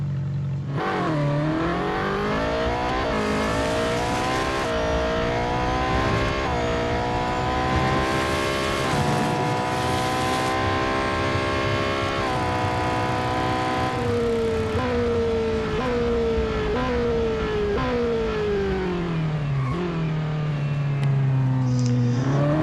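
A Ferrari J50 race car in Real Racing 3 at Silverstone revs hard through gear changes, its engine pitch rising and dropping continuously, loud and close with no talking.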